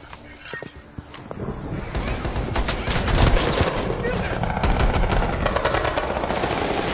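Rapid automatic gunfire in the Black Ops Cold War campaign, loud dense bursts building after a quieter start and continuing without pause, with a voice talking faintly underneath.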